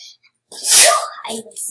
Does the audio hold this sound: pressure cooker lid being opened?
no